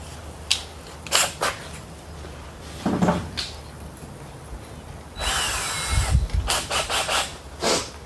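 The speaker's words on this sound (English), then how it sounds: "So first, I drilled my hole for the wood." A power drill whirs in several short bursts, then runs longer as it bites into wood drilling a 3/16 hole, with clicks and handling noises between.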